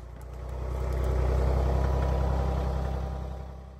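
A tractor fitted with a grapple attachment runs with a steady low, rumbling engine drone that swells and fades slightly, heard outdoors with no talk.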